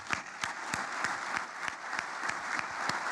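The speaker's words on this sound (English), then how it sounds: "Please give them a round of applause." Conference attendees applaud at moderate volume, an even bed of many hands clapping, with one nearby person's sharp claps standing out in a steady beat about three times a second.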